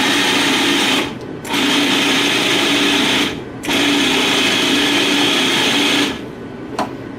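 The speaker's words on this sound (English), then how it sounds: "Do you like this food processor better than the other one?" A Cuisinart food processor whirs loudly while blending pesto, running in three steady bursts of a couple of seconds each, separated by short pauses, with no talking over it.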